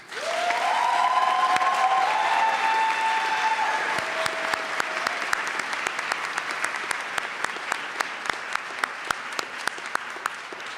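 Applause from a graduation award ceremony audience, a full crowd clapping steadily with some whoops and a tonal cheer at first, then thinning into scattered sharp individual claps.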